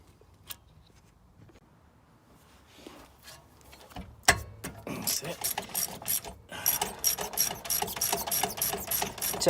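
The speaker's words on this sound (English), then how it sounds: "Keep winding until the pins come out." A ratchet clicks in quick repeated bursts while unwinding the brake caliper slide pins on a Mercedes E-Class A207's rear brakes, starting faint and sparse, then growing into a loud, steady run of close ratcheting.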